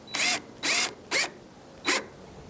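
A power drill with its torque dialed down drives a screw in slow, separate bursts: four short whirring pulses with brief pauses between, close and fairly loud, no voices.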